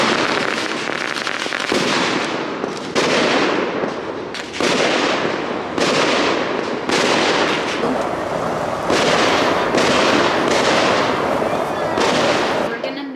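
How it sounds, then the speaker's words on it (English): Fireworks set off at Boom City on the 4th of July: a loud rapid string of crackling firecracker bursts and booming pops, repeated in dense volleys one after another, close by and continuous throughout. "People just start lighting fireworks"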